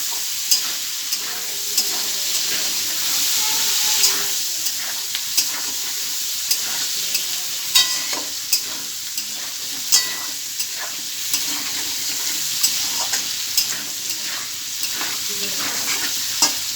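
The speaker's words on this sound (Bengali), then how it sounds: "মাংস একটু হালকা লাল করে নেবো।" Chicken pieces with turmeric sizzle steadily in a hot pan while a utensil scrapes and stirs in repeated knocks every second or so, close and clear with no talking.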